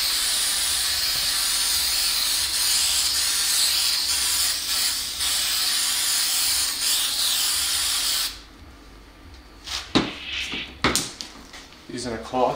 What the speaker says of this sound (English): Line up your sign using spray adhesive.